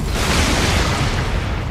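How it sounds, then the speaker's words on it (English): Explosions from the video game Dark Souls, a loud, continuous booming rumble that fills the whole stretch without a break and with no speech. "These are explosions."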